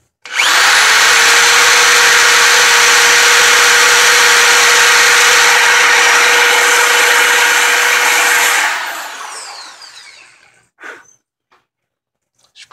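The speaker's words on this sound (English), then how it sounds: "Now I just need to finish drilling it through." Power drill boring steadily through a metal target for about eight seconds, loud and continuous with a high whine, then spinning down and stopping, followed by a few faint handling clicks.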